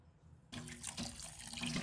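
Tap water gushes suddenly and steadily into a sink while squid is rinsed by hand, a close, full splashing flow with no voices.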